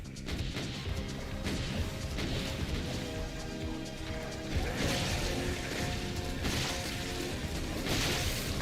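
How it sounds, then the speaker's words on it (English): Gory splatter and crunching impacts in Doom II, repeated wet smashes and thwacks amid steady loud game noise and occasional booms, with no talking. "Gotta love some splatters."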